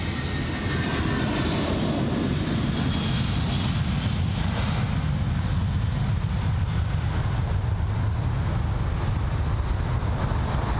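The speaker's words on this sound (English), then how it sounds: "So the A320 on the move now," An Airbus A320 jet departs at London Heathrow. A loud, continuous engine roar with strong low rumble and broadband hiss holds steady throughout, with some wind noise on the microphone.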